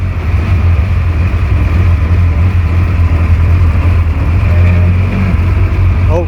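A vintage 1925 Austin Seven is driven on a winter road, its small engine droning loud and continuous with a strong low throb and road and wind noise.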